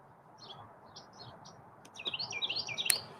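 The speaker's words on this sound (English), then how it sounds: "I hear a wren and a cardinal also." Outdoors at night, birds identified as a wren and a cardinal sing. Faint high chirps come first, then a quicker, louder warbling trill, all over a soft background hiss.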